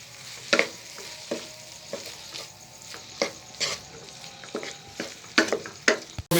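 Keema with kasuri methi is mixed and fried on a tawa: a soft continuous sizzle broken by repeated scraping strokes of a spatula at an uneven rhythm, close by and alone.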